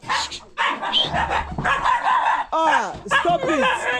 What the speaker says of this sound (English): I heard my dog making noise.